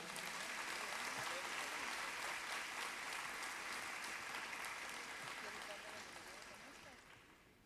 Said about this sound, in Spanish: Nuevamente, aplauso y bienvenido